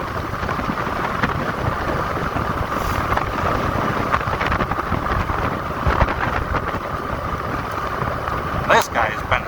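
Steady loud wind roar buffets the microphone while riding a Movcan V60 electric scooter outdoors, a constant rushing noise for the whole stretch, with a brief rattle near the end.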